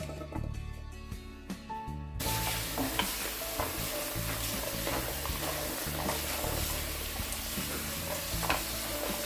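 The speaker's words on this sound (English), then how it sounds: "I'm going to open the beans and rinse it very well." Beans are swished and stirred in water, a steady wet sloshing and rattling that starts abruptly and continues close and dense without pause.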